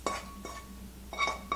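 A spoon clinks against a bowl while seasoning for cucumber kimchi is mixed: chili flakes, plum extract and salted shrimp. A few sharp, close clinks come in bursts with quiet scraping between them.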